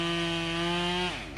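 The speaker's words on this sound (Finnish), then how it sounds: "tästä lähtee työntävällä ketjulla tuo sahaus" A Husqvarna 572 XP chainsaw cuts into a tree, its engine holding a loud, steady high-revving whine close by before the pitch sags as the chain bites and bogs down.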